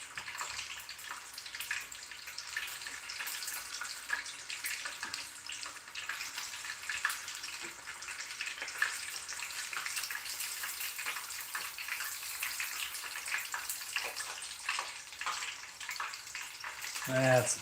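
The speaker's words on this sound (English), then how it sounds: "I'm done frying the chicken" Chicken strips frying in a pan give off a faint, continuous crackling sizzle with scattered sharper pops, steady throughout with no clear pauses.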